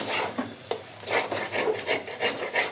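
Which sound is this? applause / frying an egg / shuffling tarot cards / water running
frying an egg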